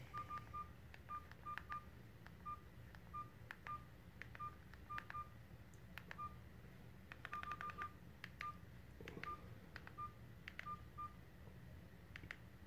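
A mobile phone's keypad gives short, identical beeps as a security code is entered, tapped in uneven clusters throughout, faint over a low background hum.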